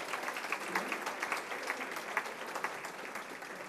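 Audience applause at a university service awards ceremony, a sustained wash of many hands clapping with scattered sharper claps, moderately quiet and alone.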